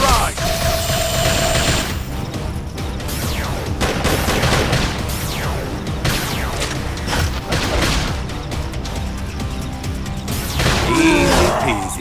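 Beam Barrage attack in Xenoblade Chronicles X, a dense rapid burst of energy-weapon fire, booms and mechanical clatter sustained over several seconds, loud and continuous amid busy game effects and a brief tonal cue.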